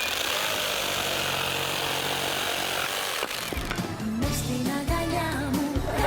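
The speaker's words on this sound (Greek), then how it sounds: "Αυτή είναι σέγα." An electric jigsaw cuts continuously with a dense, buzzy whine for about three seconds, then stops. Clattering handling noises and brief rasping bursts follow in a loud, echoing room.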